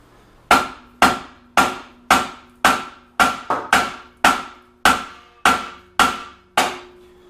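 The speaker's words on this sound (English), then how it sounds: "I don't like resorting to the hammer, but I'm not sure. I'm going to give it a try" A hammer strikes a metal trailing arm about a dozen times in a steady rhythm during removal, each sharp ringing clang decaying quickly, close and loud with no talking.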